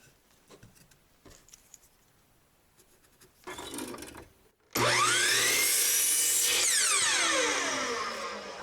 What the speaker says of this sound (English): I'm just going to use a piece of 2x2 that I have sitting right here and cut